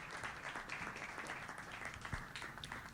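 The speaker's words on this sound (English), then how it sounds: "Let's have a huge round of applause," An audience at an arbitration law conference session applauds a panelist, a fairly faint, distant patter of many hands clapping steadily with no clear break.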